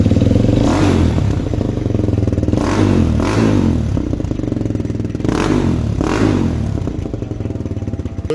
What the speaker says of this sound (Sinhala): මේ බයික් එකේ සවුන්ඩ් ටෙස්ට් එක කරලා පෙන්නන්න